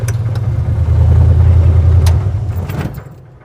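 Engine of a 1956 Chevy Bel Air hot rod on a short return drive: a loud, deep steady rumble that holds for a few seconds, then eases off and fades as the car slows.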